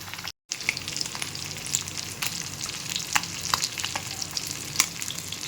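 Kavala fish frying in oil in a pan, a continuous close sizzle with crackles and pops and a few sharp spatters, heard alone after a brief dropout at the very start.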